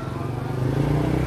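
Honda Super Cub C125 motorcycle from the Japanese domestic market, its small single-cylinder engine idling steadily up close, a loud continuous low putter that rises slightly toward the end.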